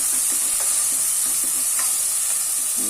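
Onions sizzle and fry in a pan for lemon oats, a steady bright crackle with soft stirring scrapes of a spoon, close and continuous with no talking.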